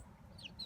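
Short, soft clucking from nearby chickens over a low rumbling background, with a couple of brief higher chirps.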